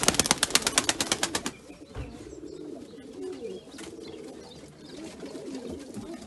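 Pigeons kept as tumbler fancy birds, with a rapid run of loud wing flaps at the start followed by softer low cooing and rustling, close by with no talking.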